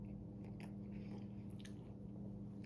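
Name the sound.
biting and chewing a fried pickle Whopper burger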